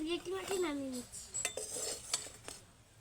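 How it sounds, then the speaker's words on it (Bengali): Pieces of dry-fried fish, cooked without oil, are lifted one by one from a pan onto a plate, making light scraping clinks of a utensil against the cookware. A voice talks softly at the start. "এইবার মাছ একে একে মাছগুলোকে আমি প্লেটের মধ্যে নামিয়ে নিচ্ছি"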